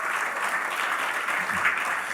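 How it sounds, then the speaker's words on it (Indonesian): Congregation at a GBI church worship service in Batam applauding together, a steady dense wash of clapping throughout with no pauses. "Beri tepuk tangan yang luar biasa."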